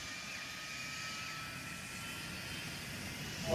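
A cartoon jet engine runs at steady volume, a continuous broadband roar and hum with a faint whine, swelling louder right at the end.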